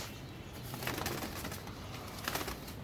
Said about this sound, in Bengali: ফার্স্টে একটা কবুতর নিলাম।